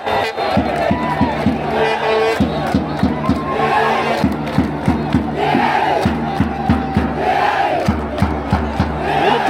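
Rayon Sports supporters roaring in Pele Stadium in Kigali, a dense, loud crowd chanting in unison to a steady rhythmic beat of claps or drums throughout.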